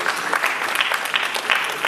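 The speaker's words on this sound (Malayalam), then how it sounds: "നല്ലൊരു കയ്യടിയോടെ ബേസലിനെ നമുക്ക് ഈ വേദിയിലേക്ക് സ്വാഗതം ചെയ്യാം." Audience applause welcoming Indian cricketer Basil Thampi onto the stage at a celebration of the film 2018's Oscar entry: dense, steady clapping from a crowd, loud and continuous throughout.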